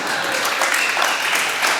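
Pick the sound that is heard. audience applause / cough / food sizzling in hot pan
audience applause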